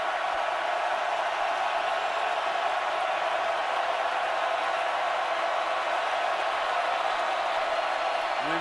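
A college football stadium crowd roars on third down in a Clemson game, a constant dense wall of cheering and noise that stays loud for the whole stretch without letup.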